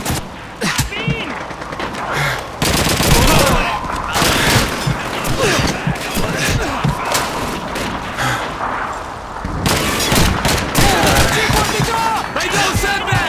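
Heavy gunfire in the Call of Duty 2 Stalingrad city hall battle: continuous rifle and machine gun bursts with booming blasts, loud and chaotic, with soldiers shouting throughout.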